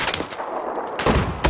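Gunfire in Battlefield 4, with rapid close shots crackling in quick succession and a louder burst near the end.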